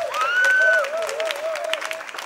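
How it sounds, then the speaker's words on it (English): Applause and clapping from an audience at a singing-competition performance, mixed with high tonal vocal whoops and cheers that give way to steadier scattered claps. "You can clap if you want to."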